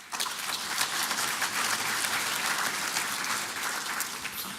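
Sustained applause from an audience at an agricultural innovation event, a dense wash of many hands clapping steadily at full strength without letting up, honoring universities and the ERC.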